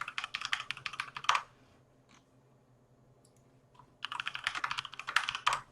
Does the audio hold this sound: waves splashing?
no